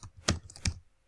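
Two sharp, close keystrokes on a computer keyboard as a file name is typed, with a few fainter taps between them in a short burst.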